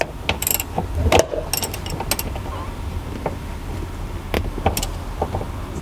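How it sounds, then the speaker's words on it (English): Bolts on a Volkswagen Vento car seat are tightened by hand, producing scattered close clicks and ratcheting taps with brief metallic knocks, irregular and fairly quiet inside the car. "So we'll just tighten this now, the bolts."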